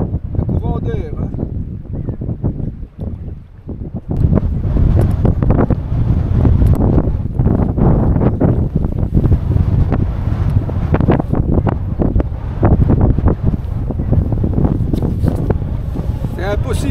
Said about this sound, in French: C'est impossible de lancer. Trop de vent.